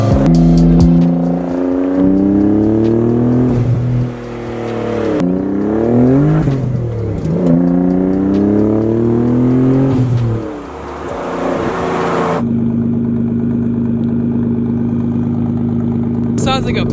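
A Nissan 400Z prototype's twin-turbo V6 revs hard through repeated rising and falling sweeps, loud and close, then drops to a steady, lower drone.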